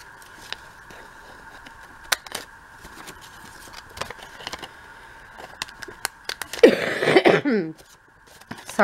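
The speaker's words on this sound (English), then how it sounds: "Sorry about the cough." One person coughs near the end, a short rough burst close and fairly loud. Light clicks and paper handling come before it, and no one speaks.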